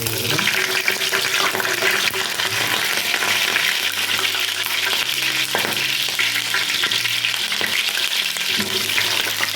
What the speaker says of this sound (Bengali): আমি গোটা গোটা ভাজবো সব ফুলকপি